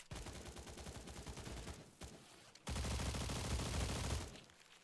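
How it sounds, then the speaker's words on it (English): Rapid bursts of automatic gunfire in a Slav folklore arena event of an online shooter game, loud and continuous with a brief pause, then a denser sustained barrage that fades at the end. "I hear somebody shooting."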